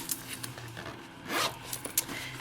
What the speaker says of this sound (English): you have a zipper pocket with customized zipper overlay